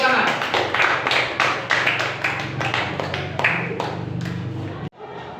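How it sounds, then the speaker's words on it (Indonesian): Students in a classroom clap together after a group presentation, a dense patter of hand claps that thins out and stops abruptly near the end, with voices mixed in. "Silakan berikan tepuk tangan."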